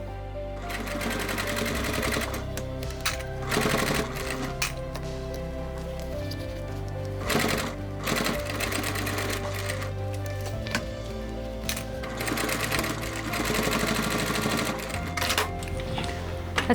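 Sewing machine stitching through a thick seam, a fast continuous mechanical clatter that strains and shifts in pace as the needle pushes through heavy layers, close and steady throughout.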